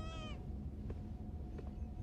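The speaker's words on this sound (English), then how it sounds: "Data, that cat definitely has a mind of her own" A house cat gives a short, clear meow at the very start, followed by a low steady hum and a few faint clicks in a quiet room.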